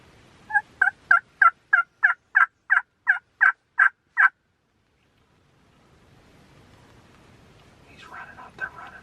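Two wild turkey gobblers in a field, heard as a loud, rapid run of about a dozen evenly spaced gobbles lasting several seconds, then quiet, with faint rustling and a distant burst of calls near the end.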